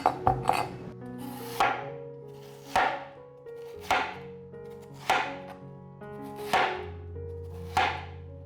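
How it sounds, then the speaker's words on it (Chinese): Knife chopping tempeh and slicing Chinese yam on a board for a vegan home dish, about eight sharp, evenly spaced knocks close by, each ringing briefly over quiet background music. "把天贝切碎，把天贝放入盘中，把山药切厚片"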